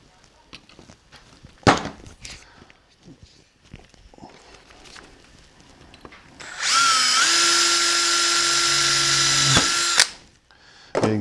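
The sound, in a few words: drilling a hole in a blaster kit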